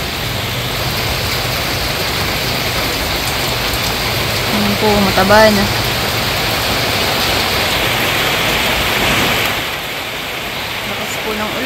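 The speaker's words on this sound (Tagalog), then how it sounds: "Lakas po ng ulan" Heavy rain pours steadily onto a rice-field setting, a dense continuous hiss throughout, with someone talking briefly over it partway through.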